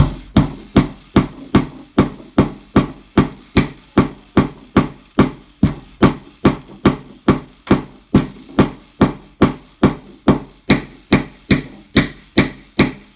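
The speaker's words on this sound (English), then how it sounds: "And then I can hammer it." A hammer strikes wood on a Home Depot wooden helicopter kit in a long, even run of about thirty loud, close blows at a steady brisk pace, no talking.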